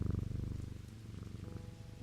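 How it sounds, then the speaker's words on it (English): A cat purrs in the video game Strange Antiquities, a steady, close rumbling rhythm of rapid pulses running throughout, heard alone without any talking. "I hope you can hear the purring on this one."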